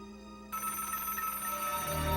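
A telephone bell starts ringing after a short pause, a bright, steady electronic trill that continues to the end, alone with no voices.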